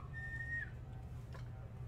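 A short, steady high whistle tone sounds for about half a second over a constant low rumbling hum in a space video game.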